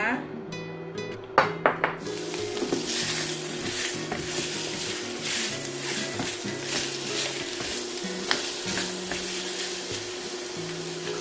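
Pork sizzles loudly in a pot as the base for a Korean soft tofu kimchi stew, with a steady hiss and occasional sharp clinks of a utensil stirring against the metal; music plays underneath.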